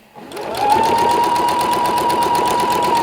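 Sewing machine stitching quilt fabric with a quarter-inch foot, starting up quickly into a steady, rapid mechanical whir with a constant tone, close and loud, no talking.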